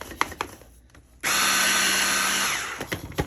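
A kitchen appliance whirs briefly to grind cooked ground meat for copycat fast food taco filling, a close, steady motorized roar of about a second and a half, set between quieter handling clatter.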